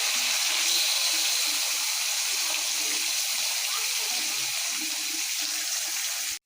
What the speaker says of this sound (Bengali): এই যে মাছ ছেড়ে দিলাম, লাল লাল করে ভেজে নেব।